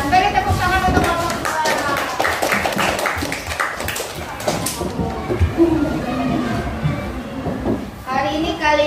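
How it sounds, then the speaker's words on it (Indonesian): A classroom of young students claps for their teacher during a lesson on the human respiratory system, a brief burst of uneven hand claps mixed with children's chatter, then someone speaks. "Beri tepuk tangan untuk Bapak."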